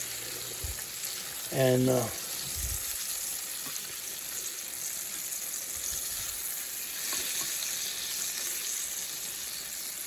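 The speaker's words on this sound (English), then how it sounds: "You just want to sear them." Meat sears in a hot pan with a steady, close sizzle throughout. A voice briefly speaks early on.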